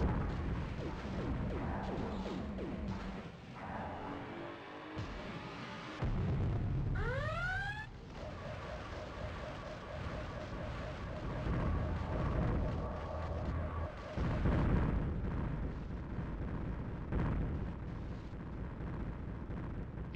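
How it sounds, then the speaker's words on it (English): Railgun explosions in a war video game: dense, rumbling blasts and crackling bursts under a continuous roar, with a rising whine-like sweep midway and heavy booming impacts throughout. "Railgun explosions are so interesting in this."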